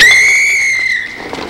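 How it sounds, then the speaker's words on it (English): A single sharp, loud whistle blast, close and clear, holding a steady pitch for about a second before fading into a faint room tail. "Even a simple whistle can deter an attacker."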